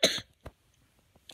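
One sharp, close cough from a person with a cold, followed by a brief softer throat sound and faint rustling in an otherwise quiet room.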